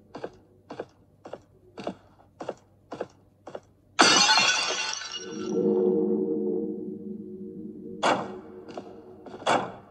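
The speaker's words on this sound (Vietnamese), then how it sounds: "cầm một chiếc búa để phá vỡ chiếc bình này" A vase is smashed with a hammer in a horror puzzle game. Several light, evenly spaced taps lead to one loud shattering crash, and the ringing breakage fades out, followed by a couple of sharp clicks.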